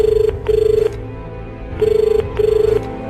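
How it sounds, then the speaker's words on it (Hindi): A phone rings in four bursts of rapid trilling tones with pauses between them, loud and close, with no one speaking. "स्वाति का फोन बजता रहा, बस बजता रहा।"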